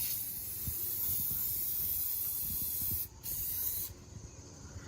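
A can of spray adhesive blasts continuously at a large wasp nest, a loud steady hiss that cuts out briefly near the end and then resumes.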